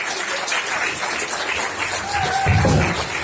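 Applause for a rock band at a concert: a crowd claps steadily and fairly loudly for the whole stretch, swelling slightly toward the end, with faint voices mixed in.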